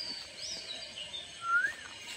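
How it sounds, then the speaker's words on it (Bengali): A bird calls in a village garden on a spring afternoon: faint, thin whistling chirps, with one clearer rising-and-falling note near the end, over a soft steady outdoor hiss. "এখানে আরেকটা পাখি ডাকছে"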